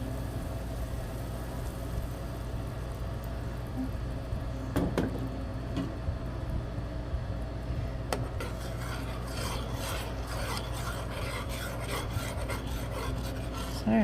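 Continuous metallic scraping and rasping of a metal whisk rubbing against a metal pan while milk is added, steady and close with occasional sharper clinks.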